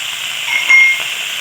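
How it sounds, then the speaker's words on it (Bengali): A garlic spice paste with cumin and coriander powder sizzles as it is sautéed in a pan for a village-style fish and vegetable curry, a steady, close hiss that swells briefly midway. "এবার ভালো করে এটাকে কষাতে থাকবে।"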